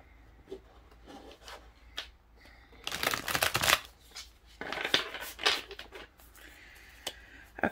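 Tarot cards shuffled by hand in bursts of riffling and rubbing, with a loud flurry in the middle and lighter, scattered card sounds before and after, close and clear without talk.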